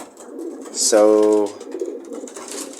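Racing pigeons give a clear, close coo that lasts about half a second, rising out of soft background noise, with a voice briefly speaking nearby.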